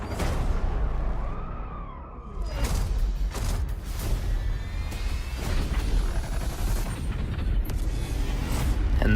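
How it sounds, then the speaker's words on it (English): Salvation's Grip firing stasis projectiles in the Destiny 2 video game: a run of deep booms and whooshing bursts with mechanical clatter, repeated several times at moderate loudness. "Salvation's Grip, which launches stasis projectiles"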